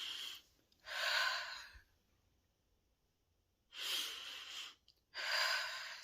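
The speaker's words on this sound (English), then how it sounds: "Take a deep breath." Three deep, slow breaths taken during a calm grounding and relaxation exercise, each a long breathy rush of air separated by quiet pauses, close and clear with no talking.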